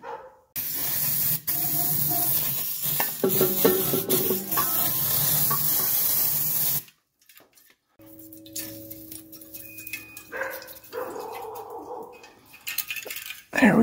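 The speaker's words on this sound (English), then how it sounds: "Now I'm going to hit that with some brake cleaner." Brake cleaner sprayed onto the brake and suspension parts of a 1984 Mercedes 300SD, a loud continuous aerosol hiss lasting several seconds, then a pause and quieter workshop clatter and handling noises.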